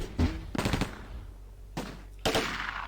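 Machine gun fire in the war game Close Combat, with a few short, loud bursts spaced apart and rattling close by, separated by quieter pauses.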